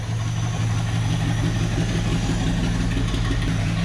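A 1976 Chevrolet Scottsdale K20 4x4 truck, abandoned for 20 years, idles with a slight knock, a steady low rumble close by with a faint uneven beat running through it, with no talking.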